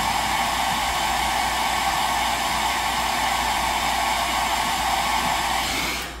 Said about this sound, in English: I'm gonna blow dry my glue to make it more tacky.